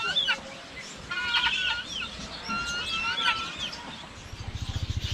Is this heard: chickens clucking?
yes